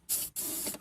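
WD-40 lubricant sprayed onto a hose clip on a Porsche Boxster 986 during charcoal canister work, heard as two close, steady aerosol hisses followed by a brief sharper third burst.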